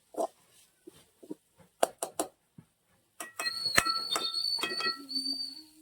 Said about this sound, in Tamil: விசில் அடிக்கிறான்.